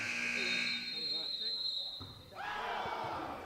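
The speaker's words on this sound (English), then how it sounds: "The shot came after the buzzer." A long electronic buzzer sounds at the end of a quarter in a men's high school basketball game, holding loud for a couple of seconds over gym crowd noise before cutting off.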